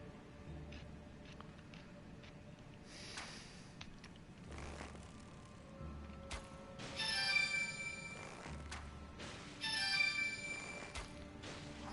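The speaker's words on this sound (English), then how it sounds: "Oh shit, I got a phone call" Phone ringtone during an Elden Ring play session, with two bright repeating bursts of warbling electronic tones rising over the quieter game background about midway through, moderately loud and without any talk over it.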